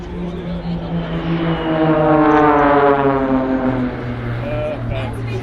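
An aerobatic team's aircraft bank round together in formation at an air show, a steady droning engine hum that swells in loudness and holds, with a falling pitch as they pass close by.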